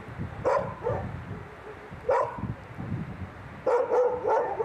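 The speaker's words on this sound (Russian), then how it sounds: "Учуяв приближение человека, собаки проявили беспокойство." Dogs in an outdoor enclosure bark at an approaching person in short, sharp bursts at middle distance, with whimpers and yips between them over a noisy background.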